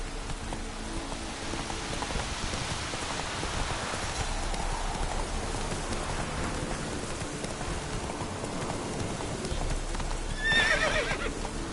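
Roach the horse in Witcher 3 gallops with rapid hoofbeats under a steady wash of rain, then lets out a neigh near the end, all fairly close and even in level.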